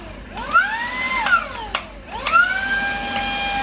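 A vacuum cleaner motor runs at maximum speed with strong suction, its whine sweeping upward in pitch twice as it revs, with a few brief knocks and a steady hum between.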